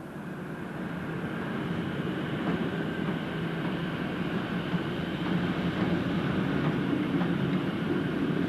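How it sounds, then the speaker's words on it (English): Class EM1 electric locomotive hauling a Marylebone to Manchester express out of Penistone, a steady rumbling roll of wheels and carriages at moderate distance, continuous and slightly building, with no talk. "Class EM1 26054 Pluto, leaves Penistone with a Marylebone to Manchester express."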